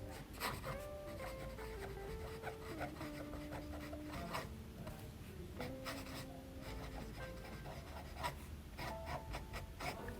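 A fountain pen with a fine nib scratches steadily across paper at close range, giving a continuous dry rasp with short strokes and pauses, and a faint background tone.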